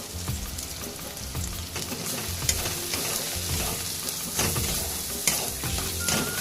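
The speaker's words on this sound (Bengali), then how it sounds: "এই গুঁড়ো মশলাগুলো আমি এই মশলার সঙ্গে ভালোভাবে মিশিয়ে কষিয়ে নিই" Ground chili, black pepper, cumin and coriander powders being stirred and fried into a masala for crab curry, with steady close sizzling and scraping stirs running throughout, loud and alone without talk.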